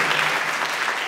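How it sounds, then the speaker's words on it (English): Short burst of steady applause from an audience at a high school Christmas concert, thanking donors: a dense, even wash of clapping with no gaps. "Give them a big round of applause."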